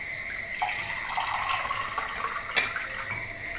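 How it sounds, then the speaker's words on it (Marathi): Water poured into a pot of tomato kadhi, a soft continuous splashing pour heard close up, with one brief louder splash near the end and no talk. "पाणी ओतून घेते"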